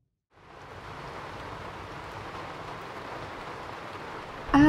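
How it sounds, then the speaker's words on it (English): Steady rainfall in Skyrim Special Edition hisses in after a brief silence, an even wash of drops that holds constant, ending with a sudden louder burst. "And it's still raining."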